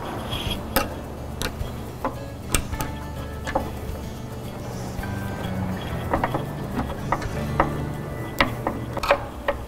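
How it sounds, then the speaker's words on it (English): Irregular small ticks and clicks of a Phillips head screwdriver tightening a bolt into a wooden 4-drawer nursery dresser, close and fairly quiet over a low background hum. "using your Phillips head screwdriver, you just want to tighten that into place"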